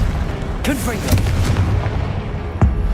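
A Confringo explosive spell cast in Hogwarts Legacy, with booming, crackling blasts over a rumbling background, a sharp hit near the middle and another near the end, and a voice calling out over it.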